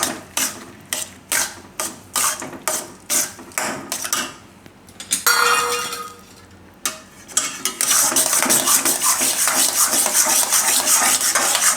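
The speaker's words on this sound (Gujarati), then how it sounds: "આમાં આપણે નાખી દઈશું આ ગોળનો પાવડર અને મિક્સ કરવાનું" Jaggery powder is stirred into rajgira sheera in a pan: a spoon scrapes in quick rhythmic strokes, then a brief pause, then a louder steady sizzle with continued stirring.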